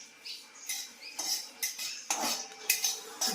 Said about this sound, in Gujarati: મસ્ત જો વરિયાળી શેકાય છે.